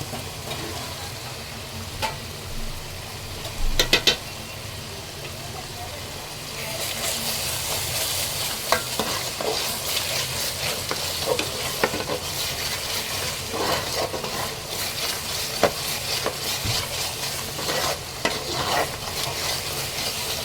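Spices stirred and fried in oil in a pan for a chicken curry, with a steady sizzle, scraping stirs and occasional clinks of the utensil, growing busier halfway through.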